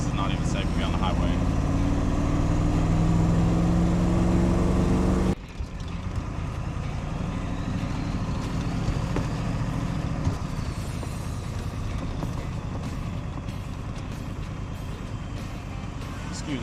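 A diesel truck rolls slowly through a gas station with a loud, rumbling engine drone. A brief air-brake hiss comes early, then the sound drops to a steadier idle-like rumble with light road noise. No one speaks.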